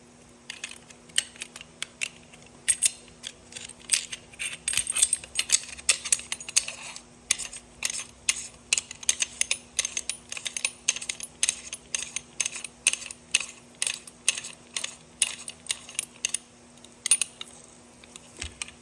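A barrel nut is mounted and tightened on a Springfield Kuna pistol, giving a long run of close, quiet metallic clicks and scrapes in an irregular rhythm, with no talking.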